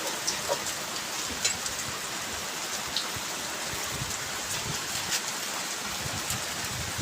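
Heavy rain pours down at an outdoor picnic, a dense steady hiss of drops hitting surfaces with occasional louder splashes, with no voices.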